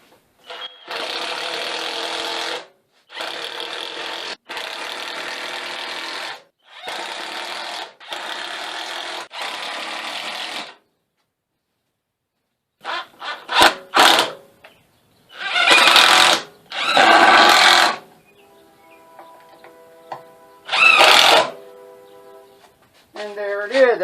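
Screws driven through a tube frame into a wooden bench with a power drill, several loud mechanical whirring bursts separated by pauses, close by, with no talk over them.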